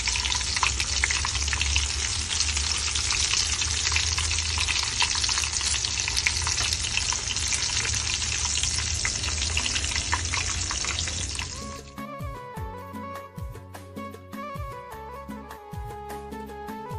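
Eggplant slices fry in hot oil with a loud, dense, steady sizzle for about eleven seconds, then the hiss drops away and is replaced by softer crackling and clinking pan noises with no talk.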